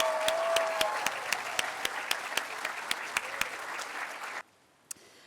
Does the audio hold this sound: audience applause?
yes